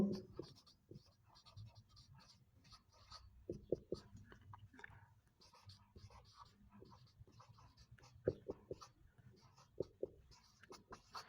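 Pen or marker writing on a board during a Class 10 chemistry lesson on reversible reactions, a run of short scratchy strokes and taps in uneven bursts, fairly quiet and close, with no speech over it.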